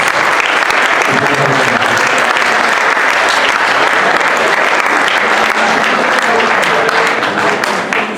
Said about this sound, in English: Bartholomew, give him a round of applause